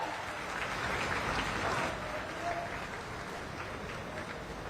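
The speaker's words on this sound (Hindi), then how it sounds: "एक बार जोरदार तालियों के साथ अभिवादन।" A crowd applauds at the inauguration of Kushinagar International Airport. Sustained, fairly distant clapping forms an even, rain-like patter for several seconds, with no clear speech over it.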